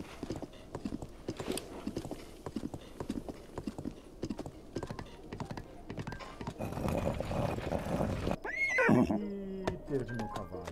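A horse in The Legend of Zelda: Breath of the Wild trots with a steady, quiet clip-clop of hooves. Near the end comes a short, sharp neigh, with faint background sounds throughout.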